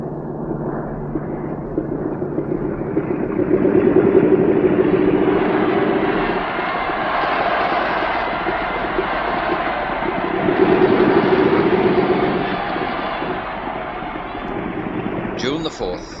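Propeller engines of the Southern Cross aircraft drone steadily in flight over the Pacific, a continuous low hum that swells twice, with other sound layered over it.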